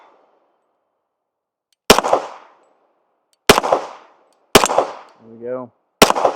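A Kimber Rampart pistol with a compensator fires four sharp, loud shots spaced about a second or more apart, each with a short decaying ring, and a brief spoken remark falls between the last shots.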